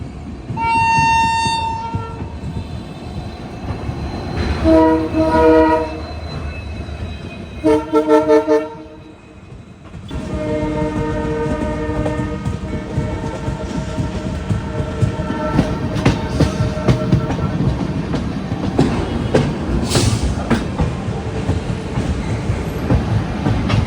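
The Trivandrum North superfast express sounds its horn in several loud blasts while pulling into Haridwar Junction, then rumbles and clatters steadily along the tracks nearby for a long stretch.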